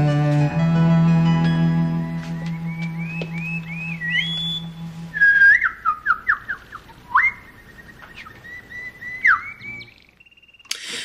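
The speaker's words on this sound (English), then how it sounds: "He calls for Leonardo after a whistling with some birds." A long sustained electronic tone gives way to human whistling, rising and falling glides, mixed with chirpy bird-like calls, fairly loud and close.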